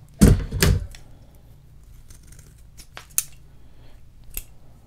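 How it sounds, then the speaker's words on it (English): Scissors cut through material for a model flyer, two quick loud snips at the start followed by fainter clicks and a few sharper snaps, close up with no talking. "And I'm just going to use scissors here"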